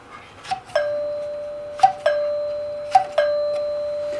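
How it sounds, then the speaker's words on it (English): The built-in door chime of a Rittenhouse RCM1 radio intercom master station sounds three times, each a clear, close two-note ding-dong with ringing decay, with short pauses between the rings. "Oh, it's got a built-in door chime too."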